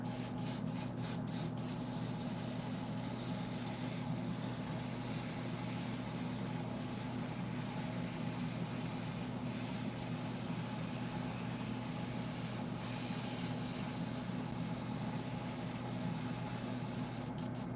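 An airbrush or spray gun lays a wetter coat of ink on a Sideshow Darkseid maquette, a steady continuous hiss at low level with a faint hum underneath and a few brief clicks at the start and end.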